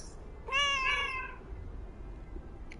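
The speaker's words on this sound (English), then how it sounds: "Plus cat. Not just any cat" A single clear cat meow from the video game Lake, close and fairly soft over a low background hum, lasting about a second.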